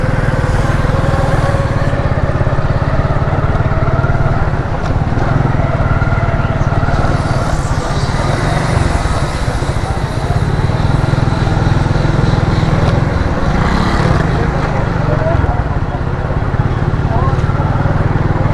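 Busy street traffic with motorcycles and other engines running continuously near a row of stationery and photocopy shops, loud throughout with voices mixed in.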